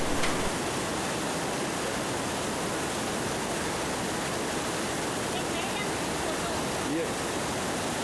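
Mandakini river flowing near Rambara on the Kedarnath route in the Himalayas, a steady, full roar of rushing water like a torrent, constant and loud throughout without pauses or voices.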